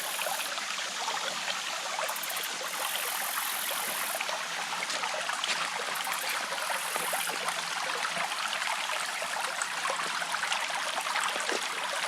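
Creek water flows steadily in a wilderness setting, a continuous close trickling and rushing stream sound with no talking over it.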